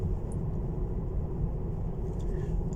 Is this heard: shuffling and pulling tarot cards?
no